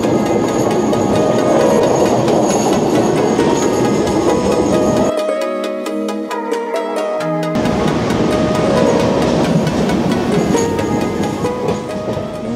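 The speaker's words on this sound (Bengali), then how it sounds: "শুধুমাত্র এই দুধসাগর ওয়াটারফলটা দেখার জন্য আমরা ট্রেনে করে ফিরছি।" A train runs along the rails on the route to Dudhsagar Waterfall in South Goa, a loud continuous rumble with rhythmic clatter, briefly dipping into a hollower, quieter passage before the full roar returns.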